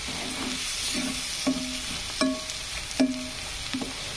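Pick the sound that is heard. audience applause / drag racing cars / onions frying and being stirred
onions frying and being stirred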